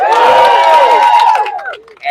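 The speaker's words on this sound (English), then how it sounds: "you guys can cheer for that" A crowd cheers and shouts loudly at a rally for arts education, a dense burst of voices that holds steady, then fades over about two seconds.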